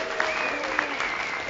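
An audience at a LISA17 tech conference cheers and applauds, a dense, steady wash of clapping from a large room.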